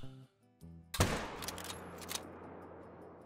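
A sharp rifle shot cracks out close and loud, then rings into a lingering echoing tail; a faint tone sounds just before, while hunting reindeer in the video game theHunter: Call of the Wild.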